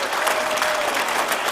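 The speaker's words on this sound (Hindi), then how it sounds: "तो एक बार अमीर आलम खान साहब के लिए इस बात की ताली बजा दीजिए" An audience at a mushaira poetry gathering applauds, a dense, steady burst of clapping from a full crowd that fills the whole moment.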